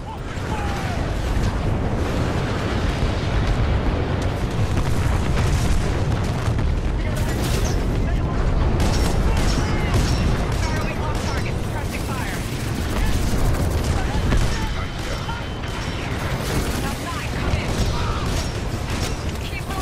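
Heavy cannon fire and explosions fill the Titanfall 2 battle scene, a dense, loud barrage of booms and mechanical clatter that runs continuously, with voices mixed in.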